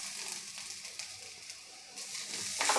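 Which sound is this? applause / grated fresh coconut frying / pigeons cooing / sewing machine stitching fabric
grated fresh coconut frying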